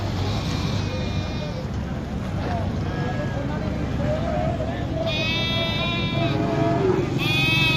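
Goats bleat at a busy livestock market in Lahore where animals are sold for Eid, several drawn-out, wavering calls rising over a loud, constant crowd murmur and nearby chatter.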